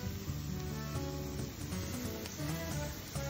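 White wine hits a hot pan while cooking cioppino, producing a steady broadband sizzle and hiss that fills the whole moment, close and even, with no talk over it.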